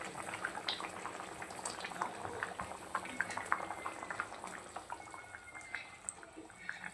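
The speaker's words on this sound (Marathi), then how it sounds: "आता बघा आपल्या भाजीला एकदम छान अशी उकळी आलेली आहे" A pot of thick kingfish curry bubbles steadily at a rolling boil, with soft pops and gurgles close by and no voices.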